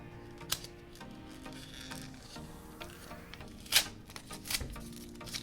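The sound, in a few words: opening a paper package of anime merch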